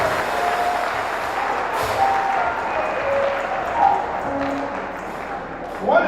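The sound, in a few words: congregation applauding in church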